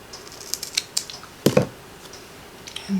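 Scissors snip through cardstock for a handmade thanksgiving greeting card, with a few light clicks followed by a pair of close, crisp cuts and a soft rustle at the end.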